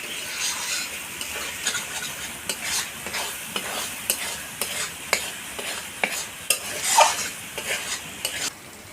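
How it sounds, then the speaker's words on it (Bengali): Spice masala being stir-fried in a pan for a chicken curry, rhythmic spoon scrapes and knocks over a continuous sizzle, close and fairly loud, without speech. "এবার আমি মশলাটাকে ভালোভাবে কষিয়ে নেব"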